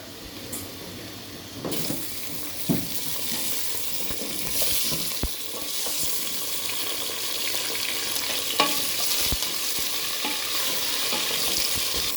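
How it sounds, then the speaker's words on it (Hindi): Mutton pieces frying in oil with golden-browned onions give a steady, loud, close sizzle, with occasional clinks and scrapes of a spoon against the pot and no voices. "गोश्त को हम इतनी देर तक भूनेंगे कि इसका कलर चेंज नहीं हो जाता"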